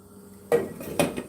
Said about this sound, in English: just stir it and let it cook in your bowl